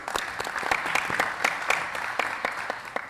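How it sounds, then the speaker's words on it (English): Applause from a seminar audience at a heavy haul railway conference, a moderate crowd clapping with distinct individual claps standing out in an uneven, steady patter. "So let's give a big clap to him."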